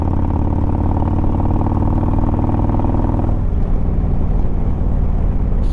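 A modified Harley-Davidson motorcycle engine runs loud and close with a steady, throbbing rumble, then the throttle shifts and the pitch and tone of the engine change partway through.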